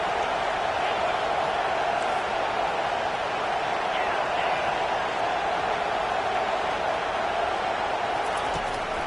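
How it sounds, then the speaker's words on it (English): A football stadium crowd keeps up a steady, loud roar on third and long, a constant dense wash of noise with no breaks. "Here comes the crowd trying to make it tough on 3rd and long."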